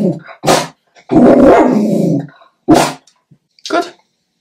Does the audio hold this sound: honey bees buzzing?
no